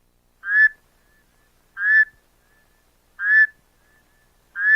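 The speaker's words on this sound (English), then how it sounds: "Rain frog." A rain frog gives short whistled calls, four evenly spaced peeps about one and a half seconds apart, clear and close against silence.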